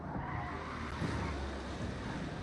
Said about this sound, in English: Nice responsive braking right there.